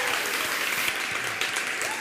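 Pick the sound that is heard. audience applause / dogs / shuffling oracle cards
audience applause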